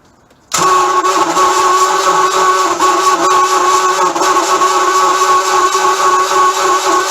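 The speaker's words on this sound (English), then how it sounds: "it sounds like the starter's going out, but we finally got it running" A boat engine with a dead battery and a failing starter catches abruptly after a moment of quiet, then runs loud and steady at a mid-pitched drone with no voices.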